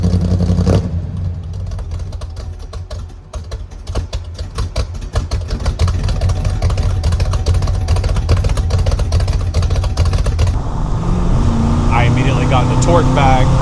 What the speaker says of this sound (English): the truck's running great